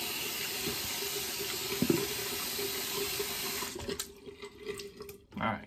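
Tap water gushes steadily into a sink for several seconds while preparing to wet-shave, then cuts off, leaving a few splashes and drips.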